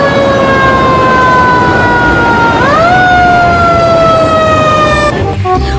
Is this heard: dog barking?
no